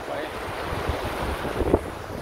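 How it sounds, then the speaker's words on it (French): Outdoor wind buffeting a microphone, a steady broadband rush with gusts swelling near the end, faintly resembling surf, with no talk. "je pense qu'il y a un peu de vent"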